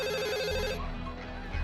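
Telephone ringing: a loud, warbling electronic ring that trills rapidly for under a second and then stops, leaving a low background rumble.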